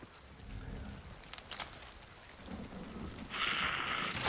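Rain falls steadily in the video game Forever Winter, with low rumbles of thunder and a louder hiss of rain swelling near the end.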